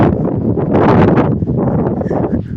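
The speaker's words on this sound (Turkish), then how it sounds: "rüzgar çok kötü arkadaşlar." Loud, continuous wind buffeting the microphone, rumbling and gusting without a break throughout.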